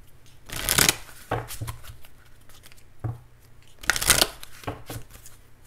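Romance Angels oracle cards being shuffled by hand in a few crisp riffling bursts with short pauses between them, close and fairly clear, with no talking.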